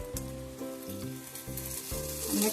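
Oil sizzles around a cucumber paratha frying on a pan, a soft steady hiss with gentle tonal notes running underneath.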